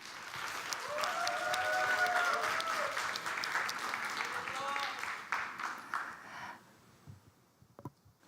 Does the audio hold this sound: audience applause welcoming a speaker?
yes